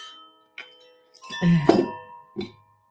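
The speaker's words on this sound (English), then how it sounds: "We'll be clearing some energy with our little air chimes, which I love." Several light metallic chime strikes ring out with sustained tones, a few spaced hits fading, close and fairly soft with no voices.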